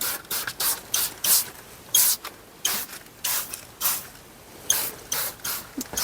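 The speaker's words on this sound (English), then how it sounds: "spray wherever I think it really needs it" A handheld spray bottle mists cleaner onto the cloth interior of a 2013 Infiniti JX35 in rapid repeated bursts. Each short hiss pairs with a faint trigger click, close up and fairly quiet.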